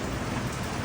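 Steady rain falls in a close, dense hiss of drops pattering on surfaces, with no voices over it.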